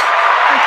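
A short burst of crowd applause and cheering plays as a sound effect on a podcast, loud, dense and steady for under a second.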